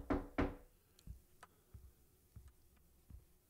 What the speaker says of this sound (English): Who's knocking at the door?